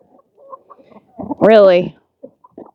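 Chickens near a chicken pen cluck softly in short scattered notes, then one hen lets out a loud, drawn-out squawking call up close before the quiet clucking resumes.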